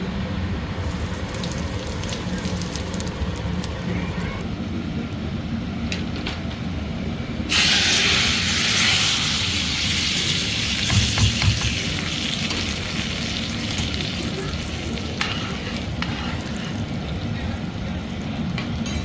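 Whole spices, including bay leaf and asafoetida, sizzle and hiss in hot oil as a tempering for moong dal, with a steady close frying crackle that swells louder midway under soft background noise.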